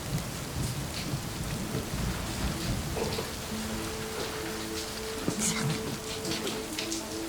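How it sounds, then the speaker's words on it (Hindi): Steady rain pours down with a dense hiss, occasional louder drips and patters, and faint voices in the background. "बारिश हो रही है ना."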